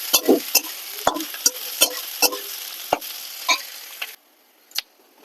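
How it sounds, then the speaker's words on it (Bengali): Onions frying in a pan for chicken polao, with a steady sizzle broken by a series of sharp spatula scrapes and taps as they are stirred, close and fairly loud, then the frying quiets near the end before one last tap. "পেঁয়াজ দিয়ে দেবো। ভালো করে নেড়ে চেড়ে নেবো।"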